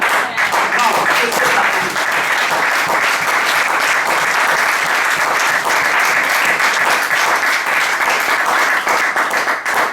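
A church congregation applauds Jesus in a sustained, loud wave of clapping lasting throughout, with voices mixed into the steady applause.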